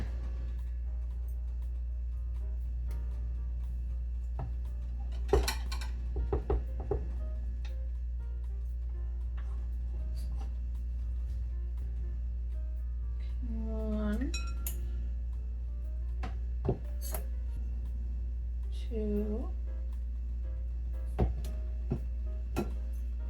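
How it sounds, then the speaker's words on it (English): Measuring cups clink and tap against dishes while flour is measured in a home kitchen, a few sparse metallic clinks over a steady low hum, with occasional talk. "So let me go ahead and get my measuring cups"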